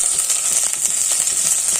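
Onion, green chili and curry leaves fry in a little coconut oil, giving a close, steady hiss of sizzling with faint crackles throughout the short stretch.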